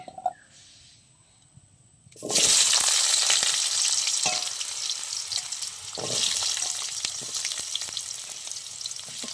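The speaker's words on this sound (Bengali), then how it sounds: "বড়া ভাজার তেলে আমি আলুগুলো ভেজে নেব।" Sliced potatoes dropped into hot oil left over from frying lentil fritters, a loud burst of sizzling after a quiet start, then steady crackling frying with occasional stirring scrapes.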